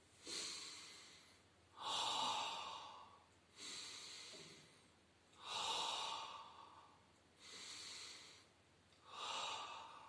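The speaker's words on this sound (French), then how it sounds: "on va faire 3 mouvements de respiration." Slow breathing exercise during a Pilates class: six long, close breaths alternate between inhales and exhales, each lasting one to two seconds with short pauses between them and no talk.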